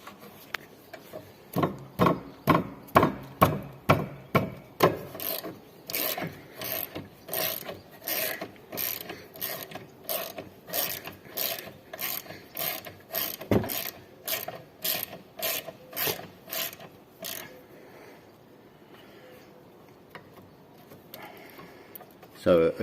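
A hand ratchet undoes 13mm caliper carrier bolts during a rear wheel bearing job on a car, giving a long run of rapid, crisp clicks that slows and spaces out, with quiet talking underneath.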